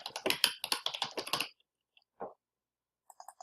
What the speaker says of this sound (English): I'm going to go ahead and type her first and last name